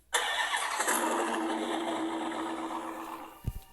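A car engine in Minecraft cranks and catches, then holds a steady mid-pitched idle for about three seconds before a short low thump at the end.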